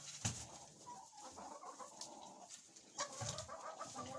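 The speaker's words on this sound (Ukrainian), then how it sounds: "Бурчить ось курочка." A hen grumbles and clucks softly in a farmyard, with a few short near clucks and low murmuring calls over quiet surroundings.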